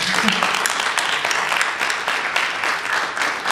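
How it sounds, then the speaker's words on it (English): An audience at an evening Q&A with filmmaker Ali Kazimi gives sustained, dense applause that fills the room, steady and loud for several seconds. "And so let's applaud you for that."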